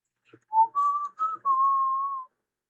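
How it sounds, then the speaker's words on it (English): A single man whistles a brief, simple tune of a few sustained notes with short breaks between them, clear and close against silence, on a wooded trail. "he whistled a short tune"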